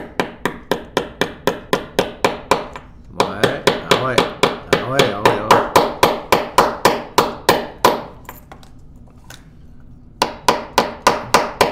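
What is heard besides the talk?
tapping a sleeve with pliers used as hammer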